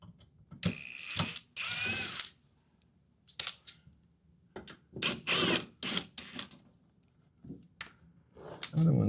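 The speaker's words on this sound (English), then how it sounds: "You want to take your impact and pull the screws out." An impact driver backs screws out of a refrigerator panel in short bursts of whirring and rattling, with clicks and handling knocks between them and a person talking intermittently.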